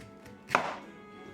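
A paring knife cuts through a pineapple in one short, crisp chop that stands alone against quiet surroundings.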